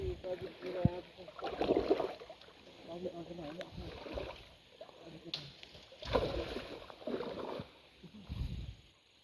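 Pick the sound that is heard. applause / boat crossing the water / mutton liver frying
boat crossing the water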